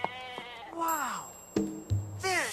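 Several short sheep bleats in a cartoon set in the Sinai wilderness, close and fairly clear, spaced across a few seconds with quiet between calls and no talk.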